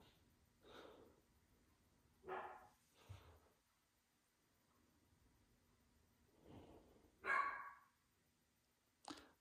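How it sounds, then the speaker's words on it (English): A pet dog gives a few short, muffled barks and snorts spread through a quiet indoor scene, moderately close, with pauses between each burst and no talking. "My dog says hello."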